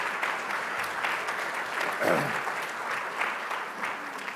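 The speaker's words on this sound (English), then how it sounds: "let's give her a round of applause" Steady applause from a crowd fills the whole stretch, dense clapping with a brief swell near the middle and faint voices mixed in.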